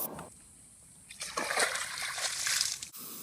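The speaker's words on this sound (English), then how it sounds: "A storm surge from the ocean is racing down the river." Rushing water of an ocean storm surge racing down a river, a broad churning roar that builds and swells for a few seconds before cutting off abruptly, heard alone.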